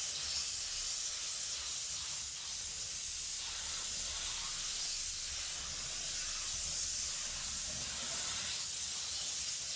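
Spray gun laying Sikkens 2-pack clear coat onto a wheel in a garage, a continuous close airy hiss held steady for the whole stretch.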